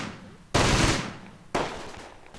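A Churchill tank firing in the Close Combat game, two heavy, sharp blasts about a second apart, each loud and close with a decaying rumbling tail.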